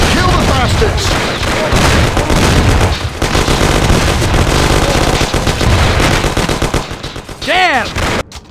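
Gunfire rattles through a shootout in the Mafia: The City of Lost Heaven video game, with loud, dense bursts of automatic and single shots continuing almost without pause, mixed with shouted voices.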